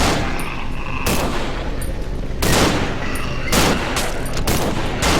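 Gunfire in the horror game Cry of Fear: several loud, close bursts of shots in quick succession with sharp cracks and brief pauses between volleys.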